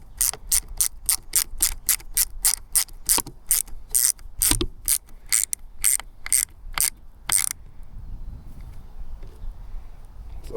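Wrench ratcheting a bolt tight on an ergonomic bike grip, a quick run of sharp clicks slowing to separate clicks, then quiet.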